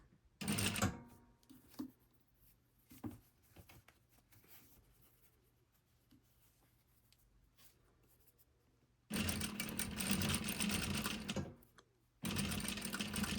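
A sewing machine stitches a Hong Kong seam finish, with bias binding slid over the seam edge. The motor whirs in short, close bursts, first a brief run, then two longer stretches separated by quiet pauses, with no voices.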